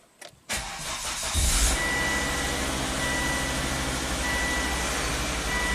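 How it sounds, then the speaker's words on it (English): A Volvo car with a fuel pressure fault code P0089 cranks briefly, catches and settles into a steady close idle, with a faint repeating beep in the background. "Let's start the car up."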